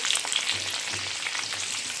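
Hot oil sizzling and crackling steadily as food fries, a soft continuous hiss with occasional pops, no voices.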